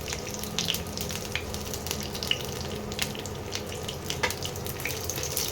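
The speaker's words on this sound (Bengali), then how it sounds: "এই রকম আস্তে আস্তে এভাবে ভেজে নিতে হবে, প্রতিটা শিমকে" Prawn-stuffed flat beans frying gently in a pan, a soft continuous sizzle and crackle at moderate level with no talk.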